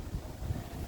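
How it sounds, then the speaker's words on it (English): Strong wind gusting outdoors near the microphone, a low, steady rumbling buffet with brief louder swells and no voices. "because it's been really windy."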